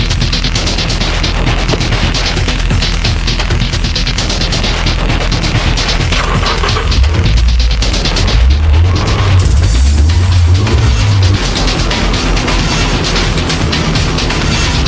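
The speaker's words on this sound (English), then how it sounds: "This is Tsuchiya's flat-out drift attack at Ebisu Circuit." Drift car driven flat-out around Ebisu Circuit, a loud, continuous engine roar with rising and falling revs and tyre noise filling the whole stretch without letup.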